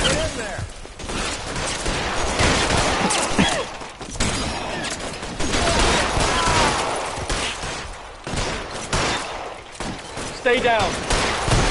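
Rapid gunfire crackles through a police shootout with LAPD officers in a video game, dense bursts and thuds running almost continuously with short gaps, while a voice briefly calls out over the shots.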